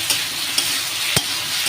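Potatoes frying with poppy seed paste and green chili are stirred in a pan, giving a steady sizzle with three soft scraping strokes of the spoon, close and clear, with no talking.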